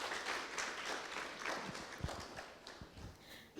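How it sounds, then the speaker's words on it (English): Convention audience at an actuarial society gathering applauds in a thin, fairly quiet and distant patter, with a few sharper individual claps standing out near the end. "may we please clap hands for him as he takes his seat"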